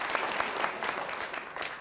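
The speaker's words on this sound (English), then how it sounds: "Go ahead, clap." Audience at a talk by the Atlanta Braves president applauds, a steady burst of clapping from a crowd at moderate distance, alone without talk.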